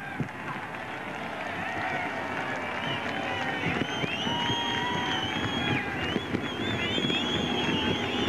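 Spectators at a NASCAR Busch All Star Tour night race at Freeport Raceway cheer and shout for the drivers, a broad sustained crowd roar with whistles and yells carried over an open-air wind rumble.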